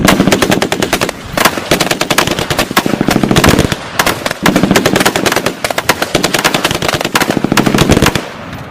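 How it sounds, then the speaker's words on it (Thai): Sustained bursts of automatic fire from M16, AK and carbine rifles in a radio drama crackle loudly and continuously, dense rapid shots with brief pauses between volleys, close and alone. "เสียงปืน M16 อาก้าและคาบินของพวกมัน ระเบิดกึกก้องลัวลั่นสนันบันไบ"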